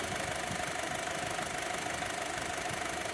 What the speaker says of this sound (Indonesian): Dan sekarang kita coba dengarkan suara mesinnya ya.